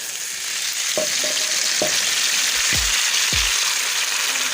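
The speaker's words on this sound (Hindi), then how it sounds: "मैं इस टाइम पे आके सूजी मिक्स कर रही हूँ" Semolina stirred into golden caramelized sugar in a pan for Pakistani makhandi halwa: a continuous loud sizzling hiss broken by a few dull scrapes and thuds of the spoon.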